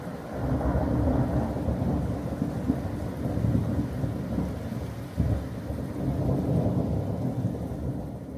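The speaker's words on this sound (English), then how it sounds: "This afternoon has been nothing but rain and thunderstorms." Thunderstorm on an afternoon, with rain pouring steadily and deep thunder rumbling continuously underneath, one dense, even wash of sound throughout and no voices.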